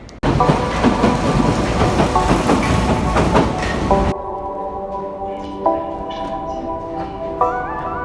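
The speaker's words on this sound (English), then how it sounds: "let's jump on this train and make this happen" A train ride in Paris: a loud rumbling, rattling passage for several seconds, then the carriage settles into a quieter steady hum with tonal whines and occasional clunks.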